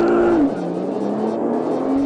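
Nissan GT-R twin-turbocharged supercar accelerating hard with launch control, a loud close engine note that drops in pitch at a gear change and then climbs steadily again.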